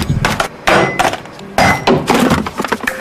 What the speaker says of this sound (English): What happens to this sander is typical. This is called the 6-foot drop test.